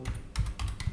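Rapid keystrokes on a computer keyboard, a quick run of close, crisp taps in short bursts with no talking.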